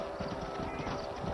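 Horses move in Red Dead Redemption, a busy patter of hoof clip-clops with a snorting whinny under the mix, continuous and close.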